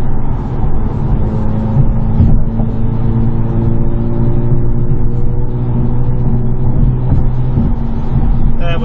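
An Audi S5 Cabriolet 3.0T with an AWE Tuning exhaust cruising on the highway at about 65 mph near 2,000 RPM gives a steady low engine hum and road noise, with someone talking over it throughout.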